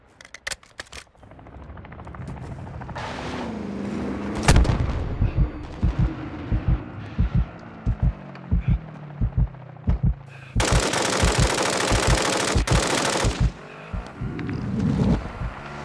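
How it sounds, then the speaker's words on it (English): Enemy gunfire in Call of Duty Modern Warfare 2's DMZ mode: a steady run of loud, sharp shots cracking in a rhythmic sequence over a rumbling background, with a burst of dense noise near the end. "I'm taking enemy fire!"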